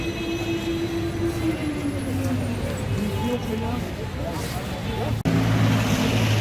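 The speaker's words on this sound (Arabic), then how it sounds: "يلا بقى نركب الترام" A tram ride through Alexandria, Egypt, with a steady low rumble of the tram car running on rails, one sharp jolt near the end, and people talking throughout.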